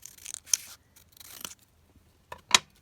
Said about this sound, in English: I'm just going to cut it down slightly more.